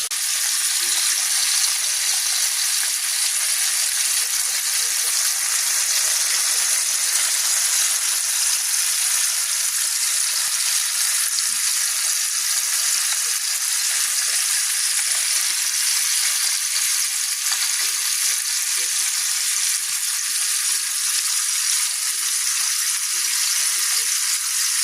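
Food sizzles in a pan in a steady, even hiss of frying that holds at the same level throughout, with no voices over it.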